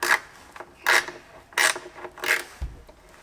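Hand screwdriver driving screws into campervan cabinet woodwork, kept deliberately loose: four rasping bursts of turning, close and fairly loud, with short pauses between them and no talking.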